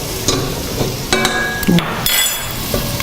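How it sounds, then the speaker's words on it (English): Spices and oregano sizzle in a frying pan with fresh tomato as a utensil stirs and clinks against the pan, close up, with a steady frying hiss under sharp scraping knocks. "Just by frying off your spices, it makes a huge difference to your end results"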